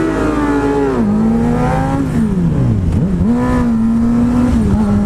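A motorcycle racing an expensive Mercedes car, with a loud, close engine that revs up, dips and climbs again through several gear changes in a continuous roar.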